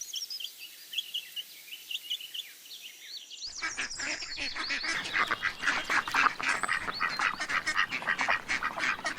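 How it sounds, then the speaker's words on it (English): Farm ducks quack and honk in a loud, dense flock chorus, preceded by a few high thin calls before the full clamor bursts in and continues steadily without any speech. "Duck."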